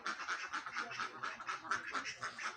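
A flock of ducks set loose keeps up a busy run of quacks, one closely following another in an uneven rhythm at a moderate distance.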